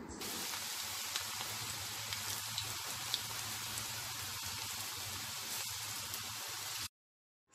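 Onion and betel leaf pakodi fritters frying in hot oil on a stove: a dense, steady sizzling hiss with small crackles that runs continuously, then cuts off abruptly near the end, with no voices.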